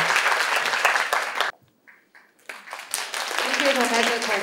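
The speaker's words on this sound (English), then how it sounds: "Let's give them another round of applause" Conference audience applauds the speakers at a healthy aging session, a dense round of clapping that cuts off abruptly midway, then resumes with a voice speaking over it.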